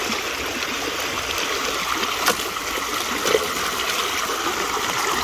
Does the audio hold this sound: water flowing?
yes